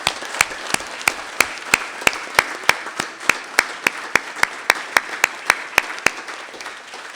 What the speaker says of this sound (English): let's give our PAC 110 a big round of applause.